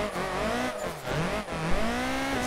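A sim racing car tears around Tamworth UK Streets with the throttle floored, its engine note climbing and dropping through revs as tires squeal, steady and close with no talk over it.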